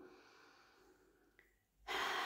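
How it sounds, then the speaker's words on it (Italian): A slow, deep breath drawn in softly, followed by a louder, rushing exhale that ends the clip, quiet and close with no speech. "Un bel respiro."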